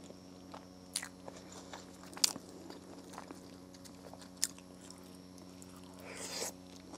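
Close, quiet bites and crunchy chewing on a shawarma with lettuce, a few sharp crunches spaced out over steady soft mouth sounds, then a brief rustle near the end.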